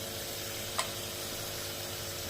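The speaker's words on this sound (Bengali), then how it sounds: "আবার একটু নেড়ে চেড়ে নিই। আর দিয়ে দিচ্ছি গরম মশলার গুঁড়ো।" Spices and garlic paste with garam masala powder frying in a pan for aloo dum, a soft continuous sizzle with one brief scrape of stirring, faint and steady throughout.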